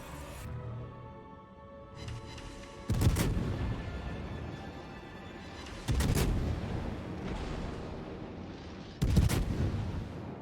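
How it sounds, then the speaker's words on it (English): Naval guns in the World of Warships game fire in heavy booming salvos about every three seconds, each followed by rumbling shell impacts and crackle, loud against a low battle hum. "I'm shot at from 3 ships, plus maybe Worcester, plus that Yamato."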